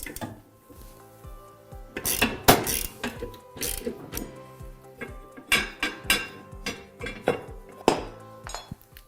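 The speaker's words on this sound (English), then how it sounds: "we're just going to take our 1/2-inch socket and ratchet and remove these 2 bolts" A 1/2-inch socket and ratchet clicks in quick bursts while removing the bolts from a washer's direct drive motor plate, with metallic clinks and taps close by in a quiet room.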